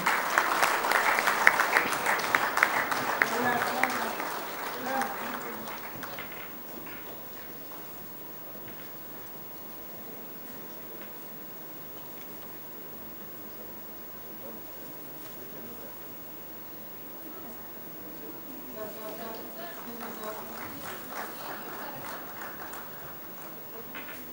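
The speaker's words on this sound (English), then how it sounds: "Let's have another warm round of applause, ladies and gentlemen." Warm applause from a convention audience at an inaugural function is strong at first, fades to a thin scatter of claps, then swells again near the end. The clapping is heard with no talk over it.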